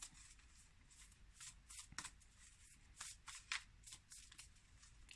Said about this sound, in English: these cards here are hard to shuffle